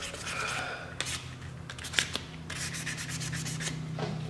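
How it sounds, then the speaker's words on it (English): Fine 1500-grit wet/dry sandpaper scrubs old gasket material off a 1997 Polaris Sportsman engine part, a close, steady rasping broken by a few sharper strokes and a small knock, with no talking. "You can sand it down."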